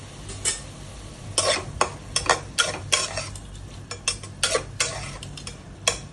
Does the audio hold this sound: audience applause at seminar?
no